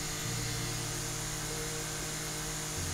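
A lawn mower in the game House Flipper drones at a steady, buzzing pitch that shifts slightly partway through, loud and unbroken, with no voices over it.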